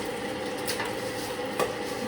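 Onions sautéing in a pan in a home kitchen, a steady, fairly loud sizzle running throughout with a couple of brief stirring scrapes and clinks.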